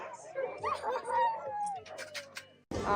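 Sled dogs on a snowy Montana race trail give faint barks and yips in the background under a person talking nearby.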